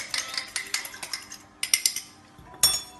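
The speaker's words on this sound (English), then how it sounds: "just going to quickly whisk up an egg" An egg whisked quickly in a bowl, most likely with a fork, gives rapid, light metallic clinks in an uneven rhythm, with a short pause partway through.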